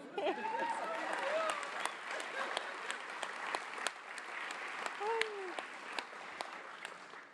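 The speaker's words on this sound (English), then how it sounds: "how about another one?" At a university presidential inauguration, an audience gives a steady round of applause, moderately faint, with a few voices and cheers rising briefly over the clapping.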